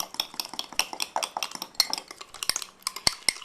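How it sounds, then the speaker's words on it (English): A utensil stirs an egg into mug cake batter inside a mug, giving a close, quick run of scraping clinks against the ceramic with a few sharper taps, all with no voices. "Mix that around really good."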